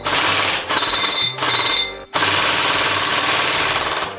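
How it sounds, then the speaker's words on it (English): An E&L airsoft AK rifle fires on full auto in rapid mechanical bursts, with a brief break between strings and then a longer sustained burst, loud and close with no talking. "And let's get some full auto."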